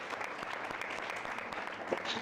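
Soft, sparse applause from a business masterclass audience, a modest patter of claps at a distance that holds steady throughout without much force.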